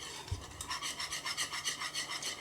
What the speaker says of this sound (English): Again, with the whisk, you're putting that air in that it needs to finish